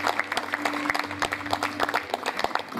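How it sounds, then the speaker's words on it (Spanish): Crowd applause at an association's inauguration event in Las Mercedes, a fairly close patter of many hands with distinct individual claps standing out over a low steady hum. "Fuertes aplausos"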